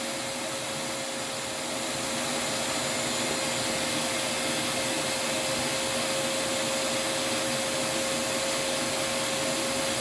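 A Fairfax vacuum cleaner runs at a steady, loud whine throughout an airflow test, with a constant motor tone and broad rushing air and no talking.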